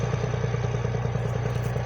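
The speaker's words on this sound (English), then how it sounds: "The tractor here pulling away some trees." A tractor clearing land by pulling trees out gives a steady, loud engine rumble close by, with a rhythmic clatter pulsing through it.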